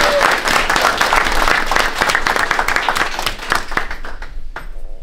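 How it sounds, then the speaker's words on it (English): A reception crowd at a lounge claps in appreciation, the applause strong at first and then thinning into scattered claps before fading out. "So we should give them a round of applause too, I think."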